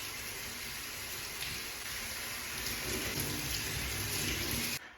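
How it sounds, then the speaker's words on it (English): Tap water runs steadily into a sink over an item being rinsed, a loud, continuous rushing splash that cuts off abruptly just before the end. "now I'm going to run it under water to rinse it out"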